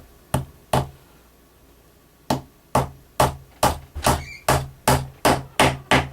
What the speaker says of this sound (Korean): 못을 박아 주고요